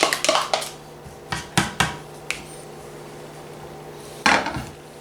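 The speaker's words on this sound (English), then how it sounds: "Use my spatula and get the rest of them out." A spatula knocks and scrapes against a Tupperware MicroPro Grill base while clearing out onions, giving several sharp clattering hits close by, then a pause and one more scrape near the end.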